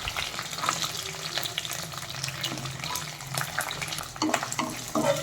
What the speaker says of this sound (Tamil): ஆட் பண்ணிவிட்டு அதை நல்லா வதக்குறேன்